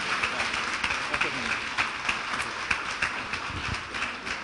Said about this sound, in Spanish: Y vamos a recibir con un fuerte aplauso